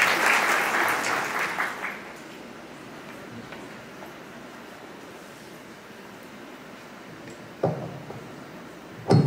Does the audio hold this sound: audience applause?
yes